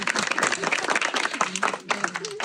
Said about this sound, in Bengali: সবাইকে হবে একটা তালি হবে।